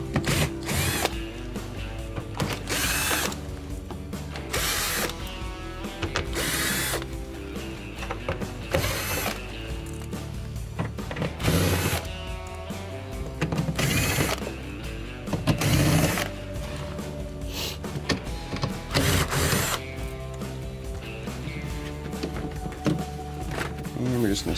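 Power drill removing quarter-inch screws from a Maytag refrigerator's condenser cover, loud whirring bursts recurring every few seconds with rattling and handling noises between, close by throughout.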